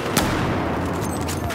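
Gunfire in the Battlefield 4 shooter game, a loud sustained rumble of shots and booms with a sharp crack near the start, dense and continuous throughout.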